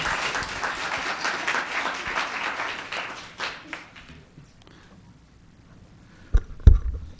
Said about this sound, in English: One more round of applause for Isabella.